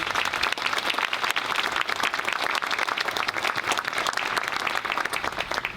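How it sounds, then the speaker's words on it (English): A steady, dense round of audience applause at a college ribbon-cutting ceremony for a new liberal arts building, filling the space evenly and without a break for nearly six seconds. "Let's have another round of applause for Lucienne."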